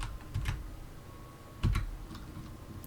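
Keystrokes on a computer keyboard while entering a formula in Excel: two short clusters of taps, close and moderately quiet, over a faint steady room hum with no talking.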